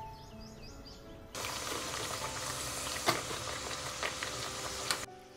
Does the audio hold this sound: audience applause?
no